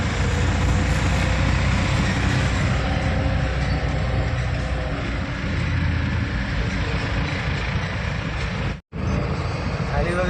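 A truck's engine runs after unloading, a steady broadband rumble that is loud throughout and drops out briefly near the end; the engine has a burst pipe.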